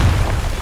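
An explosive Confringo spell blast in Hogwarts Legacy, heard as a short, loud, booming burst with heavy low rumble.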